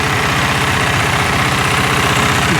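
A motorcycle engine idles on choke while warming up, close by with a steady, rhythmic chugging pulse, loud and even throughout, no talking.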